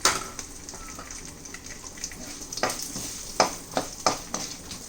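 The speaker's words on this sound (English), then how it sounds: "The mustard seeds have spluttered and the dal has become golden in color" Mustard seeds and dal sizzle and splutter as they fry for tomato rice, with soft crackling and several sharp pops bursting out irregularly, close up and fairly quiet.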